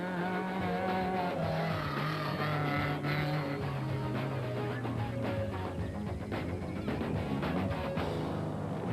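Off-road race cars at the Limpopo 400 race engines continuously at a distance, a steady layered drone with rising and falling engine pitches and occasional tire noise throughout.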